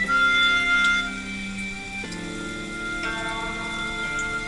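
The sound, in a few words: rain sound effect from BrainCo brainwave meditation app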